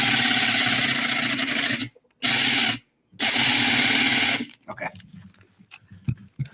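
A power tool drills and carves into a pumpkin at a carving contest, with three loud sustained bursts of whirring broken by short pauses, then scattered scraping and handling noises as someone briefly speaks.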